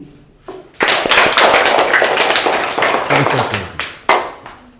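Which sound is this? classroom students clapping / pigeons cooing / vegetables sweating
classroom students clapping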